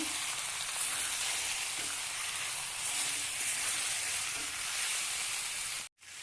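Ground spices, salt and turmeric sizzle steadily in hot oil while jackfruit and prawn curry cooks, a constant close frying hiss that cuts out abruptly just before the end.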